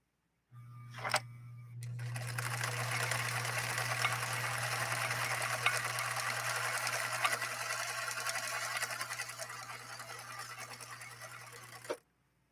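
A Viking 21E sewing machine sews a stitch, starting with a brief clack and then running in one steady, loud, continuous whir with a low motor hum for about ten seconds before stopping abruptly.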